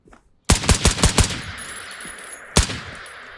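Gunfire in the video game Operator: Canoe Club: a rapid burst of about five loud, close shots, then a short pause and a single further shot, with no talking.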